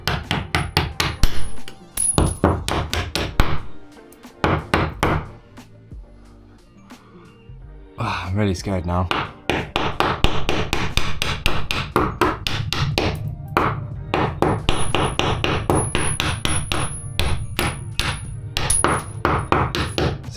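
Rapid, sharp hammer strikes from an improvised hammer ring out in fast bursts, pausing for a few seconds before resuming steadily, with a brief spoken remark during the pause.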